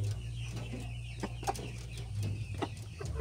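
A Black Australorp hen gives a few soft, scattered clucks over a low steady background hum, fairly faint and close.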